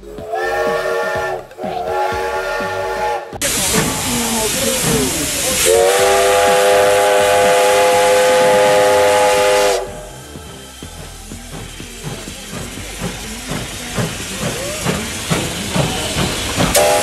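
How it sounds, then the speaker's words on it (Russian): A green steam locomotive lets out loud, sustained whistle blasts over a heavy hiss of escaping steam, then settles into a quieter rhythmic chuffing and hissing. "Да, точно, это зеленый паровоз."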